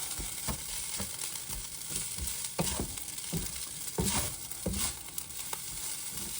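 Fried rice sizzles and crackles steadily in a hot pan, with repeated scraping stir strokes of a utensil punctuating the continuous frying hiss, close and fairly loud.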